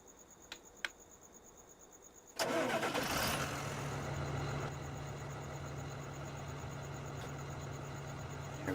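A tractor engine in a farming video game cranks and catches with a sudden loud burst, then settles into a steady mid-pitched idle that drones on to the end, backed by constant insect-like chirping.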